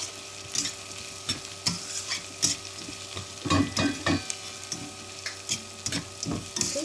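Vegetables and green peas for vegetable upma being stirred in a pan, a series of close, distinct scraping strokes at an uneven rhythm over a faint background sizzle.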